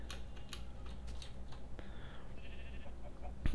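A sheep bleats in the game Minecraft, several short nasal bleats scattered over a steady low background hum, with light clicks in between and no talk.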